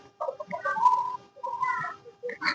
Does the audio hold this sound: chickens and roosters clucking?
yes